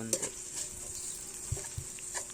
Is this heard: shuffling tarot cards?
no